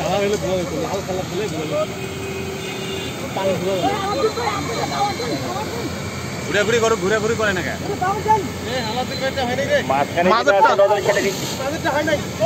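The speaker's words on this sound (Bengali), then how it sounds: "আমরা দেখতে পাচ্ছি পানিবাহী গাড়ি থেকে 3টি নজেল ডিসপ্লে করা হচ্ছে।" Water jets from three nozzles on a fire service water truck during a firefighting demonstration, making a steady, loud broadband hiss that continues throughout while people talk and call out over it.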